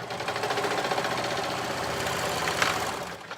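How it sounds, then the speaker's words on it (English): Steady rapid whirring and chatter of a sewing machine stitching straight across the top edge of a knit cardigan, running continuously and close up with no talking. "I'm simply sewing straight across"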